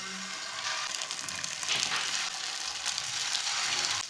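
Chicken seekh kebabs fry in a pan with a steady, close, continuous sizzle and no talking.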